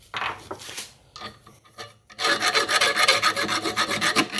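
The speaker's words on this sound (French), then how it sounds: "on va limer ici et là, sans toucher à la collerette" An engine part of an MBK 51 moped being filed by hand with a metal file: a few separate rasps, a short pause, then a loud, steady run of rhythmic back-and-forth filing strokes.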